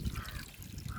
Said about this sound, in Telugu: ఇలా నాటుకున్న తర్వాత దానికి కొంచెం వాటర్ ఇవ్వండి